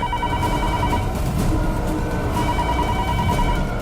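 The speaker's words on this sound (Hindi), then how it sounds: "फोन उठाइए।" A telephone rings steadily with a repeating electronic trill, loud and close, with no voices over it.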